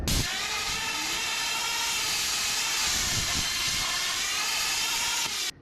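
A YesWelder CUT-65DS plasma cutter cutting a small hole in sheet metal, giving a loud, steady, close rushing hiss that runs unbroken for several seconds and then cuts off abruptly.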